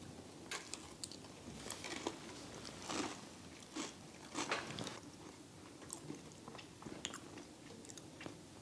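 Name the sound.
biting and chewing an oatmeal cookie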